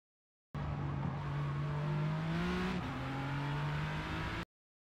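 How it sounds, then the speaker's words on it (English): A Ford GT LM in the game Forza accelerates hard on the Kyalami circuit, engine rising in pitch then dropping sharply with a quick upshift before climbing again, loud and alone. "you're bringing up the throttle, and you can see as I get the full, I shift up to second almost immediately"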